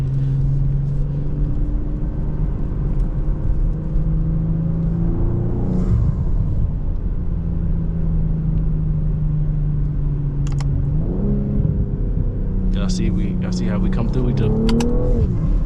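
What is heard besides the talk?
BMW M340i car driving on a back road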